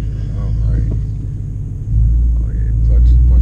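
A manual BMW E92 M3 with traction control off, its engine giving a loud, deep rumble that swells as it accelerates, with someone talking over it.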